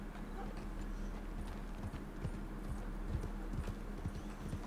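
Horse hooves clip-clop steadily in Red Dead Redemption 2, a soft, even rhythm of hoofbeats over a low background, with faint talk now and then.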